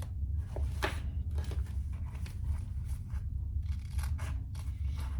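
Scissors cutting fabric for a zippered clutch bag, a series of short crisp snips and rasps in an uneven rhythm over a steady low hum, close and fairly quiet with no talking.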